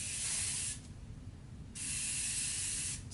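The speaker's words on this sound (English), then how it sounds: "Add a little bit of hairspray." Hairspray is sprayed on hair in two short hissing bursts separated by a brief pause, close and fairly quiet.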